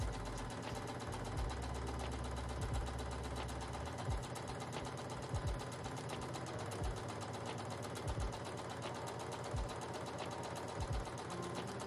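Sewing machine top stitching a puffer bag: continuous rapid needle clatter running steadily throughout, close and fairly quiet, with no talk.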